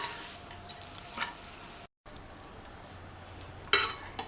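Cooked rice being stirred into a coconut rice mixture in a pan for a Tamil lunchbox meal, with soft scraping and a low steady sizzle, a brief silent gap, then a sharper clatter of the spoon near the end.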